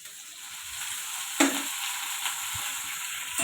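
Okra and potato pieces fry lightly in a pan with cumin and green chillies, giving a steady close sizzle with a brief louder stir or clatter partway through.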